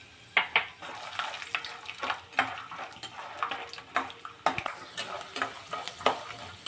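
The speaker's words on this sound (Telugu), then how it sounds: "ఫస్ట్ పల్లీలు వేయించి పక్కన పెట్టుకుందామండి" Peanuts fry in oil in a pan, a steady close sizzle broken by repeated scraping and stirring clatters of a spatula against the pan, with no voices.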